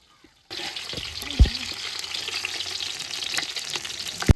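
Chicken for an Arabian-style kabsa fries in oil in a village kitchen, a loud, steady bubbling sizzle starting abruptly and running throughout, with a couple of low thuds of utensils.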